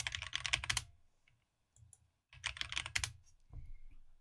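Fast bursts of typing on a computer keyboard, rapid clattering keystrokes in two or three clusters separated by short pauses, close and clear with no talking.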